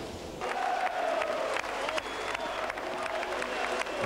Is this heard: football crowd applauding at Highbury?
yes